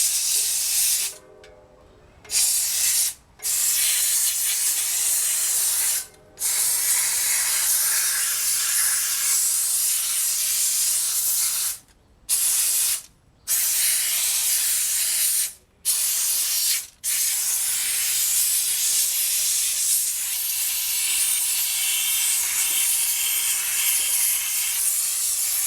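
A steam cleaner blasts a motorcycle wheel near the oil filter, a loud, continuous close-up hiss of spraying steam broken by several brief pauses where the trigger is released.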